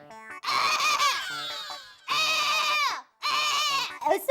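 A voice imitates a goat's bleat in three long, wavering, nasal calls separated by short pauses, loud and close.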